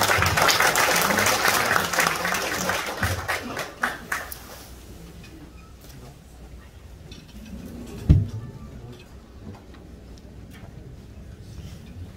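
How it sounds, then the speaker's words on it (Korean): Applause in a hotel banquet hall at a Korean peace-summit rally greets a speaker, loud clapping for about four seconds then fading into quiet room tone with a single sharp knock. "여러분 박수로 모시도록 하겠습니다"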